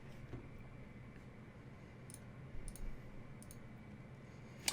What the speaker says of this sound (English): I'm going to go ahead and left click, double left click.